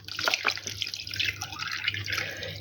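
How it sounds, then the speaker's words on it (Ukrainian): Milk pours into a bowl of cream in a kitchen, a continuous bright trickling and splashing stream with small drips, close and fairly loud, with no speech. "Тепер один до одного наливаємо молоко."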